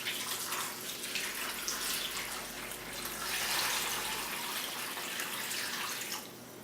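A steady stream of water pours into pans of venison stock for a few seconds, splashing and rushing close by at a moderate level before tapering off; nobody talks.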